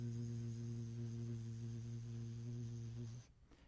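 A steady low buzzing hum from a voice, held evenly for about three seconds before stopping abruptly, quiet and alone.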